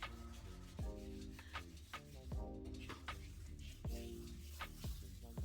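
Body scrub being rubbed onto a leg in a steady series of soft, close rasping strokes, faint and repeated at an even rhythm.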